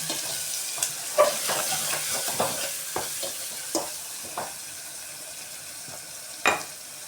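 Sliced onions sautéing with salt in a pan for sambar: a soft continuous sizzle broken by several sharp scrapes and clinks of a stirring spoon against the pan, up close and with no talk.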